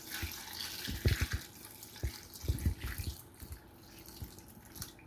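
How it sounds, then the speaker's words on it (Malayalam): Hot water poured over cauliflower in a kitchen, a close splashing pour with uneven bursts of trickling and dripping, fading toward the end, no voices. "ഈ കോളിഫ്ലവറിലേക്ക് നല്ല ചൂടുവെള്ളം ഞാൻ ഒഴിച്ചു കൊടുക്കുന്നുണ്ട്"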